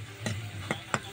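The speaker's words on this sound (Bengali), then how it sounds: "এখানে আলু ভাজা চলছে" Potatoes frying in a pan over a wood-fired stove, with a steady low sizzle and three sharp scraping stirs spaced through the moment, close and fairly quiet, with no voices.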